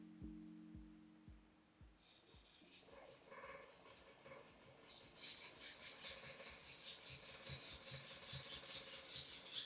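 A kitchen knife is drawn across a 1000-grit Japanese water stone with light pressure, giving repeated soft rasping strokes that grow steadier and louder in the second half, close up with no talking.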